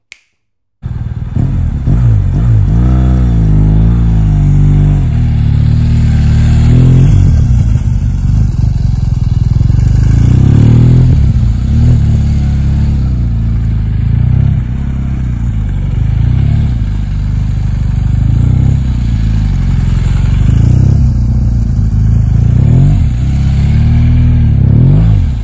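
BMW R1200GS motorcycle engine during a MotoJitsu riding challenge, loud and continuous throughout, with the engine pitch rising and falling repeatedly as the rider revs and slows.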